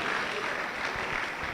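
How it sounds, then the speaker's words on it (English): Crowd applause at a graduation ceremony and education summit, welcoming a panel of judges: a dense, steady wash of clapping throughout, fairly loud and continuous, with no clear voice over it. "And now a big round of applause for our panel of judges"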